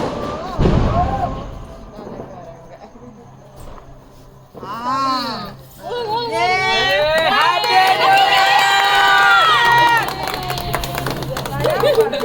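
A crowd celebrating New Year in the street breaks into loud, overlapping shouts and cheers, many voices yelling together for several seconds after a sharp bang and a brief lull.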